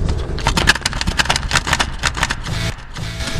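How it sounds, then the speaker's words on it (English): An opened cassette player mechanism gives a harsh, rapid grinding and clattering rattle, loud and close, lasting a few seconds before tapering off. "Jack, does your cassette mechanism make a terrible sound like this when you open it?"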